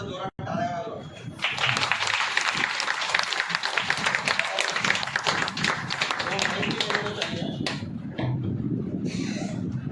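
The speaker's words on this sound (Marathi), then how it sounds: "जोरात टाळ्या वाजवा" An audience at a lecture claps loudly in a dense, sustained burst of many hands that lasts several seconds before easing, with voices mixed in.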